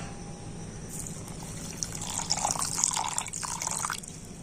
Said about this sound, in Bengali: যে বাটির মাপ করে আমি সুজি নিয়েছি সেই বাটির মাপ করে এক বাটির দুধ আমি দিয়ে দিচ্ছি